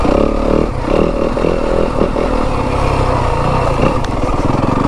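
A 2025 Yamaha WR 250F dirt bike idles along at walking pace off the gas, its engine a steady close-up low chug with some clattering from rough ground, continuous throughout.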